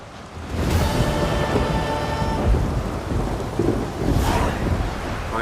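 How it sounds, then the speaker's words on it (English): Heavy rain pours steadily during a thunderstorm in The Witcher 3: Wild Hunt, with deep rolling thunder rumbling underneath and a couple of sharper cracks breaking through, loud and continuous with no talking. "Quite the storm's brewing."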